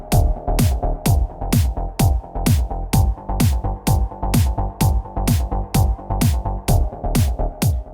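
A looped MIDI sequencer pattern of a song, its four-bar phrase repeating as a steady pulsing synth bass line with regular evenly spaced hits, loud and alone with no talking.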